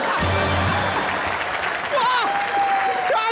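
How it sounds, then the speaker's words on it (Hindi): Studio audience applause on a comedy show, loud and sustained throughout, with a voice and music-like tones riding on top of the clapping. "ठोको ताली।"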